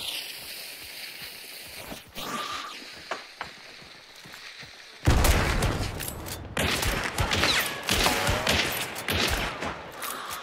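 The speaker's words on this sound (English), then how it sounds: "They're firing at me." Gunfire from enemy hunters in the Hunt: Showdown video game, a quieter scattering of distant shots followed by a loud sudden burst and repeated heavy cracks at close range.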